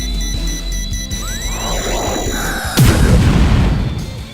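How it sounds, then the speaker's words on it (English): A whooshing build-up ends in a sudden loud boom, followed by a rumbling, crackling explosion tail that slowly fades: a fireball spell effect in the video game Grandia II Anniversary Edition. "I still like the explosion kind of countdown sound effect"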